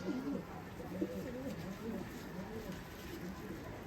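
Low, throaty coos from desi pigeons on a rooftop repeat in soft rolling phrases over a steady background hiss.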